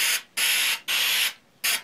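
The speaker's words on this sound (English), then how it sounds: "So now what I'm going to do is I'm just going to spray that." Spray can hissing onto paper artwork in three long bursts and a short fourth, loud and close, with brief silences between, no voices.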